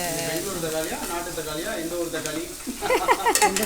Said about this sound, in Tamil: அந்த மாதிரி லைட்டாக உப்பு வெங்காயத்தோடு சேர்த்து போட்டால் கொஞ்சம் நல்லா வதங்கிடும்.